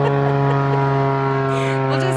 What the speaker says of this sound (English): not being distracted by the planes and the cars going by